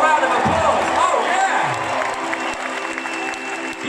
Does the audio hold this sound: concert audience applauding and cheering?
yes